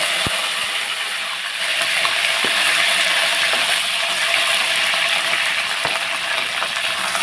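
Fenugreek seeds, green chillies and curry leaves fry in hot oil with a loud, steady hiss. A few sharp clinks of utensil against pan break through the sizzle.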